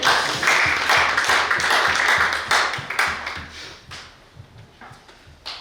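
Comedy show audience clapping, a moderately loud burst of applause that starts strong and tapers into scattered, individual claps toward the end.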